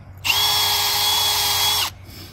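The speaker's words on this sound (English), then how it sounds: "you clip off the end and put it in your drill" A power drill spinning a wire brush whirs at a steady high pitch for under two seconds, close and loud, then stops abruptly.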